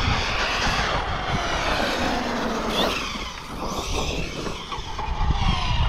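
An Arrma Kraton V5 RC basher runs flat out at full throttle, its motor giving a loud, continuous high-pitched whine with rough broadband rumble that dips briefly midway and then surges again.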